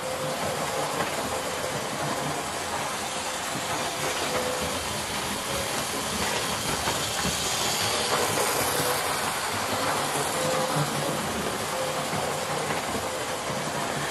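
Hornby Hawksworth County 4-6-0 model locomotive running on its track, giving a steady whirring hiss with faint clickety rail noise throughout, no talk.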